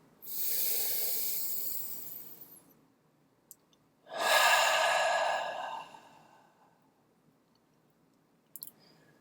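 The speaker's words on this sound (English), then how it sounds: "let's just take a deep breath together in through the nose" A person draws a deep breath in through the nose, then a second long breath follows after a pause, both breathy and close, with no talking and a few faint clicks near the end.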